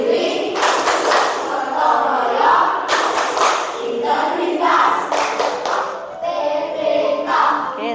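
Schoolchildren in a classroom clap and tap along to a PPK clapping routine, a loud rhythmic run of claps and thuds with shouting voices and crowd noise throughout.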